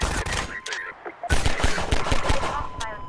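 Pistol shots in the Half-Life 2 shooter game, a burst of sharp, rapid cracks in quick succession after a brief pause, loud and close, with game noise and a speaker's voice around them.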